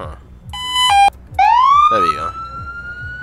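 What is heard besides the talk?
police car siren in video game Emergency 4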